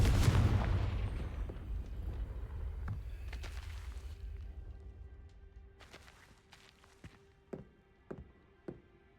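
A Confringo spell explosion in a Harry Potter video game: one loud, close blast at the start that decays over several seconds, followed by a few sparse, faint thuds and taps.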